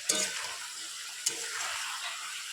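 Mixed vegetables and spices stir-fried in a pan, a steady close sizzle with two sharp stirring scrapes, no talk.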